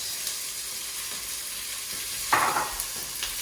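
Onion frying in butter in a pan for leek and potato soup: a steady soft sizzle with a brief louder burst of hiss partway through, as if stirred.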